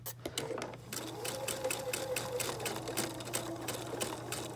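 Quilter's sewing machine stitching a quarter-inch seam right into a small point, running steadily with a constant motor hum and rapid needle clatter, close and alone.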